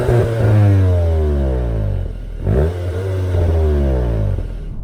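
SEAT Leon Cupra 290 accelerating hard, the engine and a muffled exhaust with an extra emissions box rising in pitch through one gear, dropping briefly at a shift, then climbing again, loud and close with no talking.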